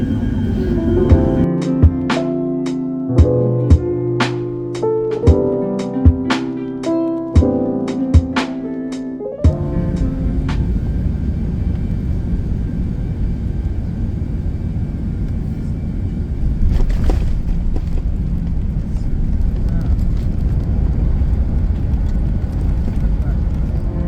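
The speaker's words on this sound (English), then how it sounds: "enjoy this stunning landing on board the Etihad A380." Aboard an Etihad Airbus A380 during landing, music with plucked notes opens before giving way to a loud, steady cabin roar and rumble from the engines and the runway, continuing without a break.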